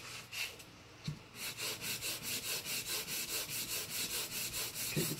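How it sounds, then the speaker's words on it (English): A feather quill is rubbed at an angle for splicing, a steady close scratchy back-and-forth rasp repeating in a quick even rhythm after a brief pause and a couple of soft knocks. "So, we just rub it at an angle."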